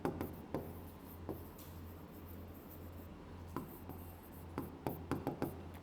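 Pen writing out given data by hand on paper for a soil mechanics problem, a soft steady scratching with a few sharper taps and strokes, close and quiet over a low hum, with no talking.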